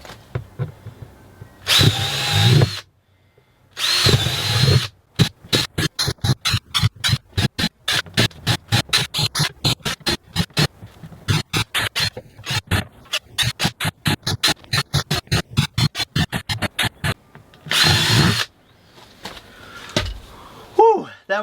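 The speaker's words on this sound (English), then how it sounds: "So, I'm going to drill some holes so we can get that going." A power drill whirs in many short, rapid bursts, boring hole after hole in a plastic bin at a steady rhythm, with brief talk at the start and end.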